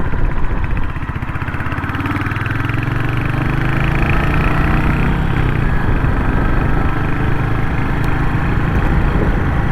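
Royal Enfield Hunter 350 motorcycle engine while riding, a loud continuous single-cylinder thrum that rises in pitch briefly as it accelerates, steady and close throughout with no talk.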